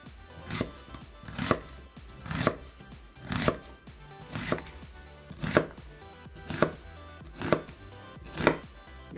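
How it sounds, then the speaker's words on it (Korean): A knife slices onion into thin strips on a cutting board, about ten steady, evenly spaced chops close by, with no one talking. "양파를 채 썰어주세요"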